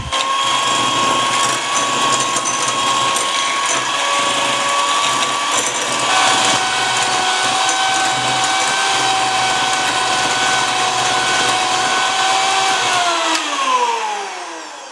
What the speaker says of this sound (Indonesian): Klop deze met een mixer op hoge snelheid circa 5 minuten.